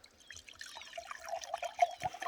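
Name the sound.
pouring a cup of water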